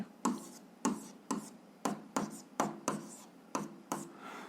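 A pen or chalk writes out an algebra equation in a steady run of about a dozen sharp, evenly spaced taps and scratches, close and fairly quiet, with no talking.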